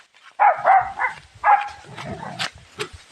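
A dog at a goat pen gives a few close, fairly loud barks and yelps in quick bursts, with brief rustling and movement between them.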